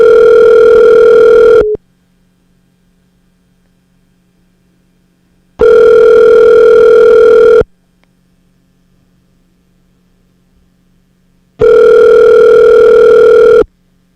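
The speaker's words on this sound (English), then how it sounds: "Answer the phone." A telephone rings through a phone line in three long, loud, identical tones of about two seconds each, separated by four-second gaps of near silence with a faint hum.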